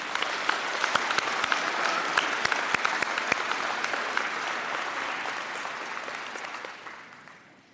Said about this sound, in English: One more round of applause for both our speakers